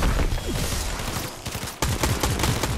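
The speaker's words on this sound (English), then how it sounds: "Artemis is shooting him" Rapid bursts of gunfire in the Fortnite battle royale game crackle loud and close, dense volleys of shots stacking over one another with a brief dip before the firing surges again.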